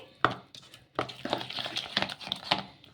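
Rava batter for bondas being stirred and mixed by hand in a bowl, with soft irregular wet scrapes and slaps, quiet and close, without talk.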